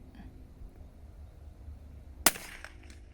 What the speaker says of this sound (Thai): เอาเส้นเล็งทาบตรงกลางแล้วก็ยิงเลยนะคะ สามนัด